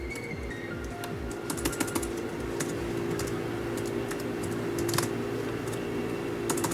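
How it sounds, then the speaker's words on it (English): Rapid typing on a computer keyboard clatters steadily in irregular bursts of quick key clicks, close up, over a constant low hum from a fan or computer. "I'm typing something, so give me like a minute."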